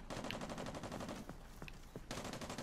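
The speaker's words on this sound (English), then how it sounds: "There's actually shots going off." Rapid machine-gun fire in the game AA, a dense steady rattle of shots that dips briefly in the middle before resuming at full intensity, with no talk over it.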